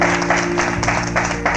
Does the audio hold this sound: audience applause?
yes